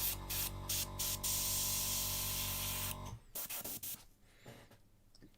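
A hobby airbrush spraying paint for miniature painting hisses steadily for about three seconds in short bursts, then cuts off, leaving a few brief quieter puffs.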